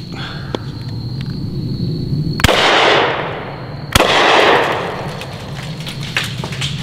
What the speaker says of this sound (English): let's see if I can get a shot on one of those shaving cream cans